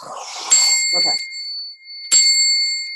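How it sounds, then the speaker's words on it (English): A small bell resting on a little pillow is struck twice, each ring a bright, sustained metallic ding that lingers and decays, with a soft rustle and faint handling noises between the strikes. "She rung the bell off the little pillow."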